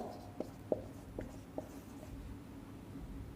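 Pen strokes and taps on paper while a maths solution is written out, a few short scratchy marks in a quiet room, close and fairly soft, with no talking.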